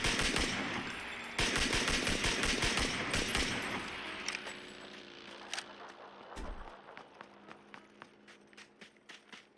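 Rapid bursts of gunfire in the battle-royale shooter PUBG, loud and dense at first, then thinning into scattered single shots and smaller bursts that sound farther off.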